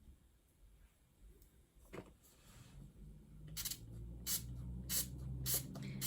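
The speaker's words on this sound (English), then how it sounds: "I'm going to spray it with setting spray." Several short hissing sprays of makeup setting spray, about four quick bursts in the second half, close and fairly quiet, following some soft handling noises.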